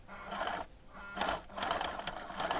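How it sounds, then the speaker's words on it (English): A sewing machine runs a wide zigzag stitch in orange thread, a steady fast whirring hum that pauses briefly twice and starts again, close and clear with no talk. "I'm going to need to put in a largish zigzag"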